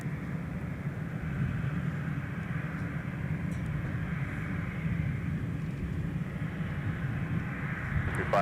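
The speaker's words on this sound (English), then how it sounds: "here she is, the Delta Spirit sticker A350" Delta Airbus A350 jet taxiing at MSP airport, heard as a steady, distant engine rumble and hiss that holds constant throughout, with no talk over it.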